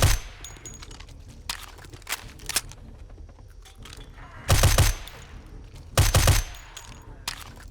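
Glock 17 pistol gunfire in the video game 7 Days to Die, several loud, sharp shots, mostly paired quick bursts, separated by quieter stretches with faint clicks and background noise.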